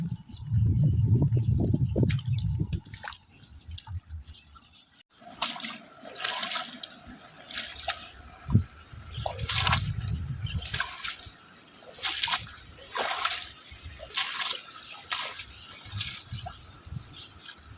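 Floodwater from an overflowing river rushes through a flooded paddy field, first as a loud churning gush, then a thinner trickling flow broken by repeated splashy surges.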